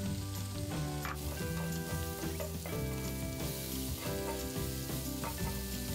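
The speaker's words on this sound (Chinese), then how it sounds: "炒软之后，加红喜菇下去继续炒。" Red shimeji mushrooms stir-fry with instant noodles in a pan, a steady dense sizzle with scraping stirring sounds running throughout.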